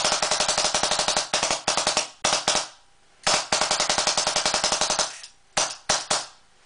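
A custom RT AutoMag pistol fires in rapid bursts, loud sharp shots in fast rhythmic strings separated by short pauses, then a few single shots near the end.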